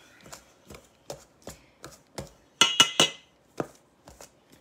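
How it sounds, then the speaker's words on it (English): A pastry blender cuts butter into flour for cream scones, giving about a dozen soft, dull chopping thuds at an irregular pace, with a brief cluster of sharper, brighter scrapes in the middle, close and fairly quiet with no talk. "you want to just keep cutting that butter in until your butter is about the size of peas"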